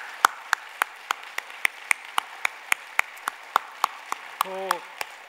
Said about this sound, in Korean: 한번 뜨겁게 박수 한번 해드리시면 좋겠어요.